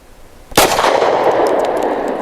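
A single sharp gunshot from a Sig P365 pistol with a 3.9-inch barrel, firing Sierra Outdoor Master 124 grain hollow point rounds, cracks loudly up close and trails off into a long, ringing echo.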